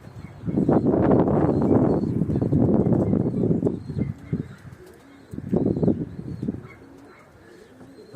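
Tumbler pigeons coo in low, throaty, repeated bursts close by, with a pause between two long runs of calling and faint chirps and wing sounds in the background.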